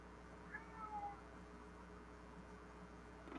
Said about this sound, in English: he starts meowing